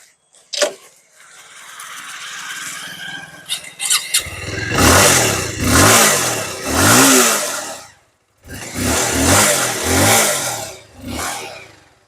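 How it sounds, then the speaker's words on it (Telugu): A Bajaj Avenger 220 Cruise 2024 motorcycle cranks with a clatter, fires up, then idles and is revved hard in several loud, close surges that rise and fall, with short pauses between blips. "వెహికల్ ఒకసారి ఇంజిన్ స్టార్ట్ చేసి చూపిస్తాను ఒకసారి చూడండి"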